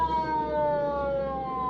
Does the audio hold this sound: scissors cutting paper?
no